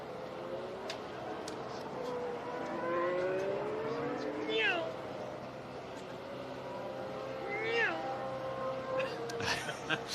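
A voice in a helicopter filming the 2018 United States Formula 1 Grand Prix mimics racing cars, rising and falling engine-like whines with quick pitch sweeps, over a steady background hum.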